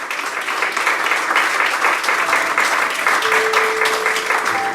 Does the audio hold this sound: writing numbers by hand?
no